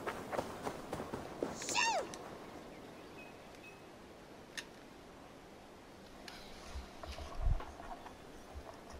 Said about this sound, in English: And yeah, you got cats.